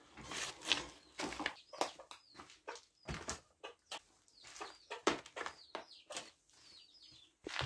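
Laying hens on a homestead, layer birds sharing nests, cluck in short, irregular bursts with scattered higher calls, close and moderately loud, with no talking.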